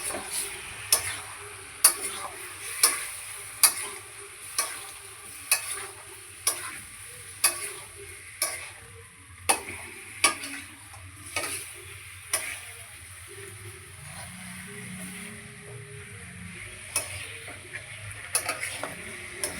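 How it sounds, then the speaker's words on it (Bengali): Chicken pieces are sautéed in a wok for chicken curry, a spatula striking and scraping the pan in regular sharp clacks over a low steady sizzle, close and fairly loud, later turning into quicker taps. "এবার মাংসটা আমি কষাচ্ছি"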